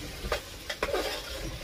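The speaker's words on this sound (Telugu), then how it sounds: "మనం ఉల్లిపాయ బంగాళదుంప ఇలా బాగా వేగినాయి కదా." Onions and potatoes frying in a pan for a potato tomato curry, a steady soft sizzle with a few scraping stirs of a spoon against the pan, no talking.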